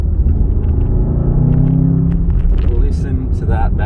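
A 2023 Bentley Continental GTC S engine rumbles deeply and revs near the listener, with a person talking over it.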